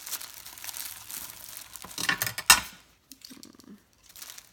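A craft kit wrapped in brown paper is handled and torn open, with close crinkling and rustling that builds to a sharp tear, then drops to quiet with a few faint movements.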